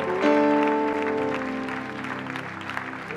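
A church congregation applauds and acclaims God during a worship service, a brief burst of clapping under a sustained tonal musical chord, with sound swelling early and then gradually settling.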